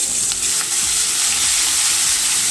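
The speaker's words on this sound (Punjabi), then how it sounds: "2 ਮਿੰਟ ਵਾਸਤੇ ਅਦਰਕ ਲਸਣ ਨੂੰ ਭੁੰਨਾਂਗੇ" Ginger and garlic sizzle and fry in a pan for a mixed vegetable curry, a steady close hiss with a few faint clinks of stirring and no talking.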